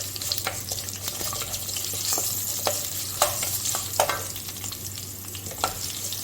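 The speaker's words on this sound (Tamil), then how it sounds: "வெங்காயத்தை கொஞ்சம் நல்லா வதக்கிக்கலாம்" Whole peeled onions and curry leaves fry in sesame oil for a South Indian karamani kuzhambu, a steady close sizzle broken by scraping stir strokes and occasional sharp clinks of a spoon against the pan.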